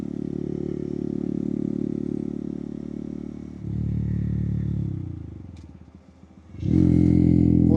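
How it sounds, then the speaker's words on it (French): A Honda Monkey 125 motorcycle engine runs steadily and loud, dipping as it eases off, then surging back up as the rider accelerates again. "Et la moto est vraiment agile."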